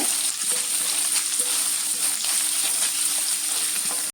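Thinly sliced medium onion sautéing in hot oil for a chutney, a steady loud sizzle and crackle throughout with faint stirring scrapes mixed in.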